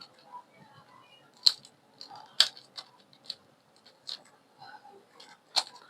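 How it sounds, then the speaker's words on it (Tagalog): Scissors snip through the packaging of a 256 GB SanDisk SD card: a few sharp, crisp cuts spaced a second or so apart, close and quiet, with soft rustling of the package between them. "So, gamitan ko na ng gunting diretso."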